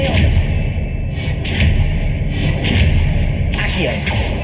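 Spell-casting effects from the video game Hogwarts Legacy sound as repeated whooshes and thuds over a dense, loud game soundscape, with a voice speaking between them.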